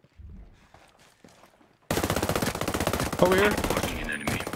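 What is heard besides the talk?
gunfire in Ghost Recon Breakpoint PvP match, video game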